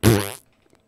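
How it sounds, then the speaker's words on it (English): A single loud, close fart bursts out as a short buzzy blast lasting under half a second, then fades into near silence with a couple of faint ticks. "Hold on, I have to fart."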